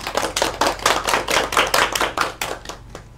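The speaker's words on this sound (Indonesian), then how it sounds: "Beri tepuk tangan untuk kita semua" A class of students claps together in a microteaching lesson, producing a quick run of rhythmic, fairly even claps close by that thin out and fade toward the end.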